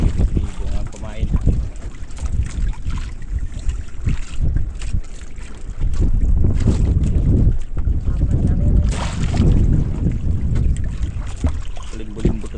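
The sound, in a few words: strong wind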